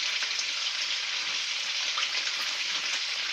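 Bacon cooking in butter with cherries, sizzling steadily in a frying pan with a continuous bright hiss and small pops, close and alone without talk.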